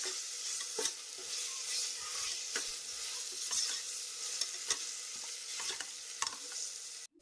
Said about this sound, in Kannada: ಶುಂಠಿ ಬೆಳ್ಳುಳ್ಳಿ ಪೇಸ್ಟ್ ಹಸಿ ವಾಸನೆ ಹೋಗೋ ತನಕ ಎಣ್ಣೆಯಲ್ಲಿ ಫ್ರೈ ಮಾಡ್ಕೋಬೇಕು ಇದನ್ನು.